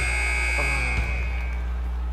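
A loud electronic end-of-game buzzer from the NBA 2K16 basketball video game, during a high school MyCareer game, sounds as one sustained tone lasting about a second and a half over faint background game noise.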